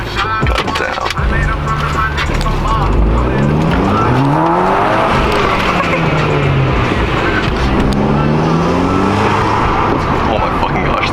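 A Volkswagen GTI with full bolt-on modifications pulls hard through the gears, heard loud from inside the car, the engine rising in repeated sweeps with turbo spool whine, as passengers talk excitedly.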